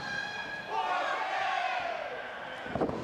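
A crowd at a women's wrestling brawl cheers and yells. The sustained roar swells partway through and is followed by a sharp thud near the end.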